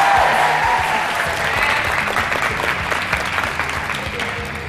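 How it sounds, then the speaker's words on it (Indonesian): Applause from a group of high school students at a school aero modeling club gathering, loud at first and then tapering slightly, with some low background rumble. "Tepuk tangan dulu dong."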